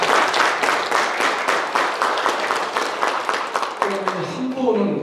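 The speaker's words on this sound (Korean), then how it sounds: "박수 한번 보내주시고" Audience applause at a signing ceremony in Nonsan between the city and NH Nonghyup Bank, steady dense clapping filling the room at close range, with a voice starting to speak over it near the end.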